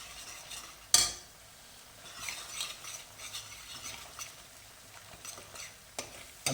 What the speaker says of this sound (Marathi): दही सुद्धा या मसाल्याबरोबर चांगलं परतून घ्यायचं आहे.